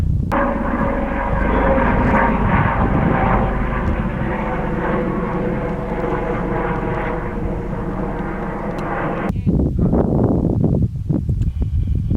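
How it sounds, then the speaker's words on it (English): A steady helicopter drone passes overhead in Olympic National Park, loud for several seconds, then cuts off abruptly into quiet outdoor rustling. "I hear a helicopter."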